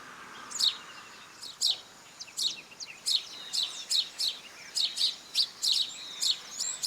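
House sparrows chirp during a dust bath, a run of short, sharp, bright chirps in quick irregular clusters over a quiet background, close by and fairly faint.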